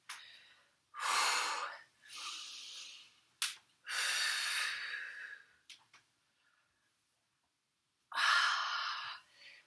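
Deep breathing during a full-body warm-up exercise: several long, breathy inhales and exhales close to the microphone, separated by quiet pauses and a short sharp intake of breath.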